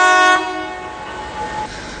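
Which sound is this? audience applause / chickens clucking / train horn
train horn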